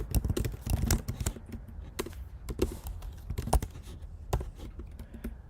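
Computer keyboard typing, a close, irregular run of quick key clicks and heavier thumps that keeps going throughout.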